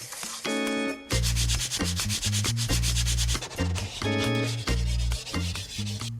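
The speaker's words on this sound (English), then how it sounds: "The sanding begins." Sandpaper rubbing over a piece of bent wood in repeated rhythmic strokes, close and loud, each pass a rasping scrape with short gaps between, no voices.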